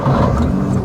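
A Nissan GT-R R35 (2023) engine with dual-clutch transmission roars at steady high revs after starting, loud and close, with a deep rumbling growl throughout.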